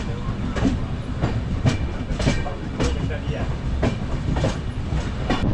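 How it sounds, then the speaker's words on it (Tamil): An express train rolls from Chennai Central toward Katpadi with a steady rumble and rhythmic clickety-clack of wheels passing over joints, heard from inside, continuous throughout. "இப்போ எம்ஜிஆர் சென்ட்ரல் மத்திய ரயில் நிலையத்திலேருந்து இந்த ட்ரெயின் ஸ்டார்ட் ஆகிடுச்சு"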